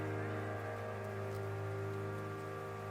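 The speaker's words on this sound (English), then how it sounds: "Sounds like some rain as well." Soft rain hiss layered into a synthwave song, steady and faint beneath sustained, droning synth chords.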